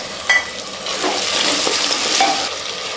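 Chopped small onions sizzling and frying in a pan for mushroom biryani, with a spoon stirring and scraping through them in a steady, close crackle.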